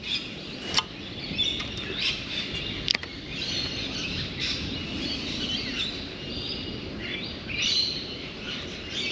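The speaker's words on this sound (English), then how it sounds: "How cool is all that bird song?" Birdsong fills an outdoor spot beside water, a steady layer of chirps and calls throughout with a couple of sharper calls standing out, quiet and ambient with no one talking.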